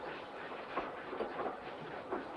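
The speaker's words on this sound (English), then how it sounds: "This train will stop at Tucumcari." A train runs along rails in a western film scene, a continuous rumbling roll with faint rhythmic clacks and soft thumps repeating in the background, moderately quiet.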